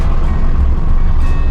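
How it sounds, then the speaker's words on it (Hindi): Heavy road traffic on the road from Ranchi into Jamshedpur forms a loud, dense rumble of vehicle engines and road noise, steady and close for the whole short stretch with no voices. "काफ़ी हैवी ट्रैफिक से मुलाकात हो गई है"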